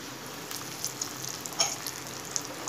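Peas, carrots and other vegetables hit hot oil over softened onions for rava upma, giving a steady close sizzle with scattered sharp crackles and pops, no voices.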